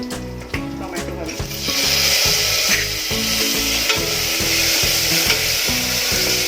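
Asafoetida, turmeric and tomato frying in a pan, a steady broadband sizzle with scraping and stirring strokes over it, close and fairly loud throughout with no voice.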